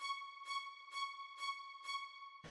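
A staccato string sample for warped rave music, five short, quick bowed stabs on the same pitch at an even pace, faint and alone, ending with a brief thump.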